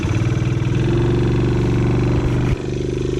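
A Taotao 110cc engine that burns oil runs loud and close with a steady, throbbing idle-like drone, then cuts out abruptly near the end before picking back up more quietly.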